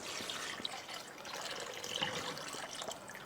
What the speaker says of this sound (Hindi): और अब हम डालेंगे कोकोनट मिल्क।